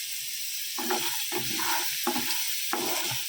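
Chickpeas frying in a pan give a continuous close sizzle, broken by four spaced bursts of stirring and scraping.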